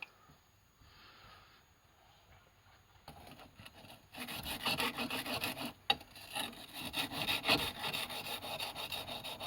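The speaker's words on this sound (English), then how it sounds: "I will just do some more goes on the whetstone just to show you what I've done" A knife blade for a Resident Evil 6 survival knife replica is sharpened on a whetstone, producing steady, gritty rubbing strokes. They start faint and grow louder and denser partway through, close up and without talk.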